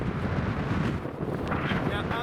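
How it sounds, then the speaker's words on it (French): Wind buffeting the microphone high on Mont Blanc during a ski ascent, a continuous loud roar with gusty swells and a faint voice at the end. "il y a un peu de vent."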